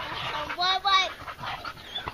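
Hunting dogs panting after a possum hunt in Christchurch, New Zealand: quick, close breathy pants with a few whimpering, whiny tones, mixed with faint background voices.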